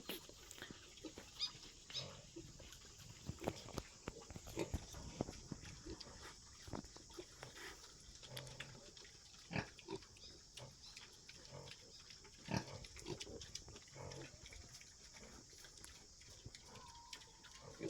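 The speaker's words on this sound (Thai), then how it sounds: "แบบเลี้ยงเพื่อบริโภคเราก็จะมีป่าผสม ดำภูพานแล้วก็ หมูป่าผสม เหมยซานครับ" Pigs, wild boar crossbred with Meishan and black Phu Phan pigs on a farm, grunt softly and intermittently at a distance alongside faint shuffling and farmyard noise.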